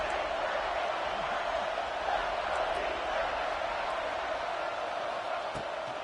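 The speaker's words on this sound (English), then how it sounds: "this crowd is bringing down the house" Stadium crowd at an American football game roars steadily on a third-down play, a dense, sustained wall of cheering with no breaks.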